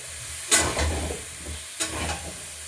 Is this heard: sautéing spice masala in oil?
yes